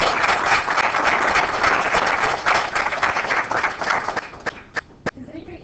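Lecture audience breaks into sustained, dense applause, many hands clapping steadily before thinning into a few scattered final claps.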